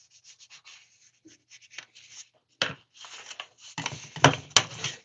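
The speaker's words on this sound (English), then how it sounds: "I'm hand sanding and talking about knives." Intermittent scratchy rubbing strokes, short and irregular, as a knife blade is hand sanded at a forge, then a louder burst of rapid abrasive scraping toward the end, close by.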